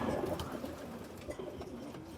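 A racing pigeon coos close by in a short, throaty, rolling burble that repeats in low pulses with no talking.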